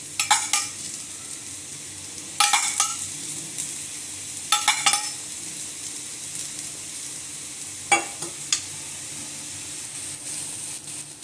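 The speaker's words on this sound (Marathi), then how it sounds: "आपण याला दुसऱ्या साईडनेही व्यवस्थित शॅलो फ्राय होऊ द्यायचे" Beetroot cutlets shallow frying in a little oil give a low, steady sizzle broken by several sharp crackling bursts as oil spatters or the pan is stirred, close and moderately loud with no talk.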